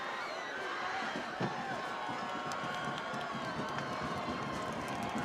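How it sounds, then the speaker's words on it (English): Crowd noise at a high school football game between Downingtown East and Downingtown West: a steady, fairly distant murmur of spectators with scattered thumps and cheers. "Lots of noise from the crowd."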